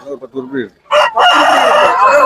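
A rooster crows loudly and close at a Kunnathur rooster market, a long strained call following a brief burst of nearby clucking or calling.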